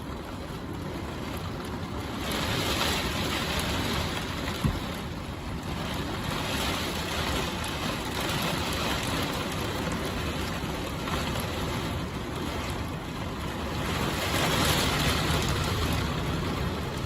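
Rain and severe gusting winds batter an RV during a storm, a steady rushing roar with surging gusts and no voices.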